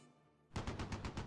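Gunfire in the WWII strategy game Close Combat 3 starts after a quiet lead-in: a rapid, loud burst of repeated automatic shots in a steady rhythm, heard alone.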